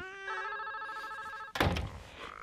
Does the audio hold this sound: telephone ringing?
yes